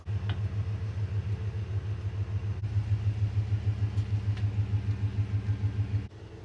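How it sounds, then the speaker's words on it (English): A truck engine runs steadily while the truck is being moved, a close, loud rhythmic rumble with regular pulsing that cuts off near the end. "let me see if I can move the truck now."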